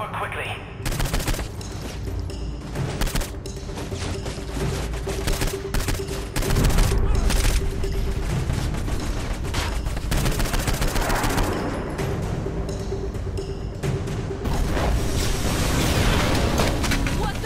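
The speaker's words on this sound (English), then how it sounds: "Our side's bombing the compound!" Bombing of a compound in the video game Saints Row IV: dense, loud bursts of explosions and rapid gunfire rattle almost continuously for many seconds, with voices now and then underneath.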